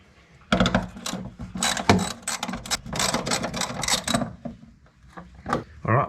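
Old indicator nuts being unbolted on a Classic Mini, a run of close, dense metallic ratchet clicks in quick bursts with short pauses between them, loud and without talk.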